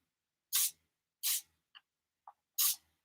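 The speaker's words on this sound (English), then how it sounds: "Let's do some drippage of some walnut stain and spritz it." Walnut stain is spritzed from a hand spray bottle in three short, crisp hissing bursts, with faint clicks of the trigger between them.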